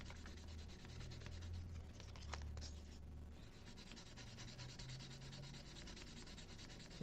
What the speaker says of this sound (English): make sure that this 400 grit gets through it, and so that it's nice and smooth